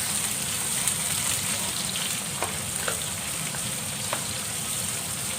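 Chopped onion sautés in hot oil for a sweet-sour spicy red tilapia sambal, a steady close sizzle throughout with a few faint stirring scrapes and no talk.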